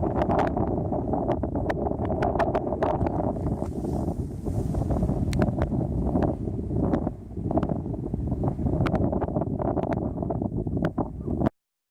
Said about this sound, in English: It's clouded over now and the wind's picked up a little out of the west.